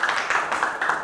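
Brief classroom applause after a group presentation, quick overlapping claps from several students forming a dense, fairly loud patter with no voices.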